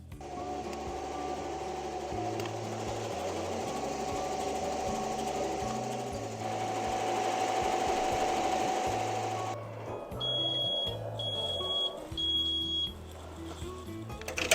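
An embroidery machine stitches fill and then outer satin stitches on a patch, a steady mechanical whirring hum that holds through the whole stretch and shifts pitch in places, with a faint high tone near the end.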